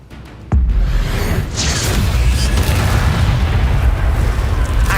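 A Confringo spell explosion in a video game bursts with a sudden loud boom, followed by a sustained roaring, crackling blast that fills the rest of the moment, with no talking.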